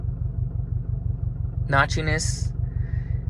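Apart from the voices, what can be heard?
2021 Subaru STI engine idling with Group N shifter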